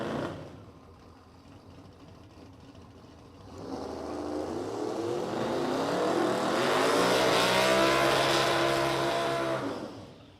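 Race cars in the 450-ish class at a motorplex, engines rising from a distant drone into a loud, close revving roar that climbs in pitch and holds before easing off.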